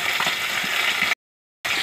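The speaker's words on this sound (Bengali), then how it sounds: "তেল গরম হয়েছে, আমি এবার বাটা মাছটা ছাড়বো।" Bata fish frying in hot oil, giving a steady dense sizzle that is close and loud and then cuts out briefly before returning.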